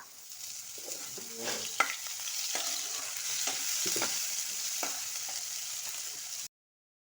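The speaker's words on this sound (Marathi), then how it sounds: "आता घालूया बारीक चिरलेला कांदा. कांदा घालून तो छान परतून घेऊया." Finely chopped onion sautéing in hot oil with popped mustard seeds and cumin, a steady close sizzle broken by a few sharp scraping stirs, with no voices, stopping abruptly near the end.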